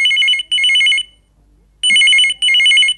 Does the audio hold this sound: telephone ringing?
yes